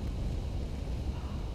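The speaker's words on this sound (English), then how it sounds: "this is the sound of the fire" Fire burning in the video game Sekiro: Shadows Die Twice, a steady low rumbling roar that holds at an even level throughout, with no talking over it.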